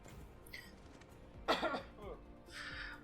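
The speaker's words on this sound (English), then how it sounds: "Sorry about that cough." A single sharp cough from a man with a head cold, close to the microphone, in the middle of an otherwise quiet stretch with faint speech-like sounds around it.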